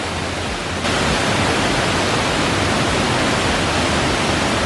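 A heavy forest waterfall at Anakulam near Mankulam roars as a loud, dense, unbroken wash of falling water, close and steady throughout with no voices.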